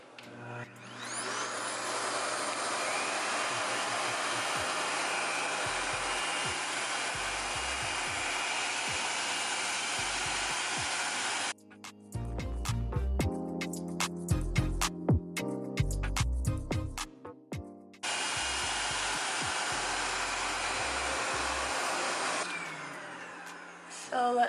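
A Revair hair dryer blowing on hair at a high setting, a loud steady rushing whoosh that cuts out for a few seconds of handling noise in the middle, then resumes.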